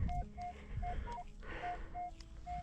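Minelab Manticore metal detector sounding a series of short, clear beeps at an old homesite, repeating in quick bursts over a rough wind-like rumble in the background.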